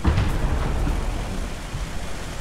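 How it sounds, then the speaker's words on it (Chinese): Distant tank cannon fire from the War Thunder video game lands as a muffled low boom at the start, then rumbles away into a fading, noisy tail. "侧前方是一直有炮声的。"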